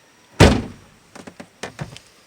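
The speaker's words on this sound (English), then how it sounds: "Let me shut this door." A car door is shut close by with a single solid thump, followed by a few faint knocks and rattles as the interior settles.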